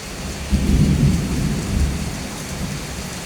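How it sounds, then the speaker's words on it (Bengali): Thunderstorm with heavy rain outdoors: a steady roar of downpour with a deep rolling thunder rumble swelling early and fading under the continuous rain, no voices. "অনেক জোরে ঝড় আসছে।"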